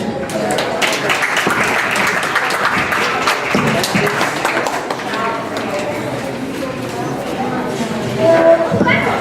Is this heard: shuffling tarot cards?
no